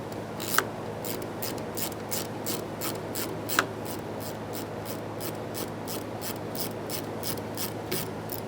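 Rapid, regular clicking of a ratchet wrench working 7mm mounting bolts inside the driver's side wheel well of a 2004-2008 Ford F-150, close and moderately quiet, a couple of sharper clanks, no voices.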